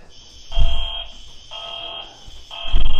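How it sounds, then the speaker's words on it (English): A building fire alarm sounds loud and near in three repeated buzzing tones about a second apart, with thumping noise between them. "The fire alarm is going off again."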